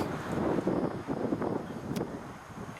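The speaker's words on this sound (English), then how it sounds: "As you can see in here, it's pretty windy." Gusty wind roars and buffets the microphone in uneven surges during a firearm deer hunt in Michigan's Upper Peninsula, a dense low rumble with no voices.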